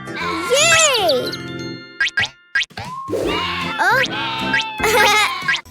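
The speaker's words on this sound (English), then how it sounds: "Orange sheep." Cartoon sheep bleats loudly in a children's farm-animal learning cartoon, a wavering, sing-song voiced bleat followed by short springy boing effects and further bouncy bleat-like calls, bright and close with playful chimes.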